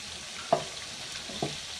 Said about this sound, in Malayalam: ഇനി ഇത് ഫ്രൈ ആയിട്ട് കാണിക്കാം